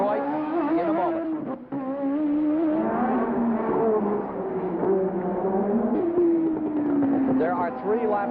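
Formula One race cars at the 1984 Detroit Grand Prix street race, high engine whines rising and falling as cars pass, loud and continuous with a brief dip, under a commentator's voice.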